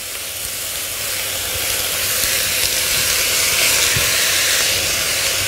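Vegetables tipped into a pan of frying onions, chicken and mushrooms, giving a steady loud sizzle and hiss that builds slightly and carries on without talk.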